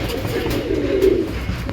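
Pigeons coo in a breeding loft, a low continuous murmur of several birds close by, steady throughout with no talk.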